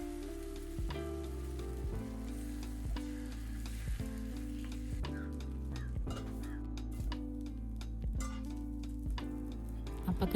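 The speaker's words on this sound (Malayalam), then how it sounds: "അപ്പക്കല്ല് ചൂടായി മാവൊഴിച്ചു." Neer dosa batter sizzles on a hot griddle, a soft, continuous hiss underneath louder melodic background music.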